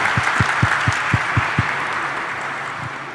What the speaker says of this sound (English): Just a round of applause for him, please.